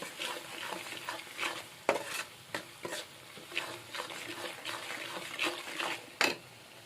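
Food with salt and turmeric is stirred and mixed in a pan, producing repeated scraping strokes and soft clinks over a faint background sizzle, with no voices.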